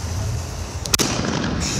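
A single sharp, loud blast from a large Red Apple Fireworks 5-inch XL canister cracks out amid steady outdoor rumble, then fades into a hissing wash of noise.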